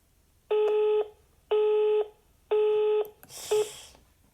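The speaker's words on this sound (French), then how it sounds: "Pourquoi ça bip comme ça?" A telephone emits three evenly spaced loud two-tone beeps, each about half a second, followed by a shorter beep blurred with a burst of noise, instead of connecting a call.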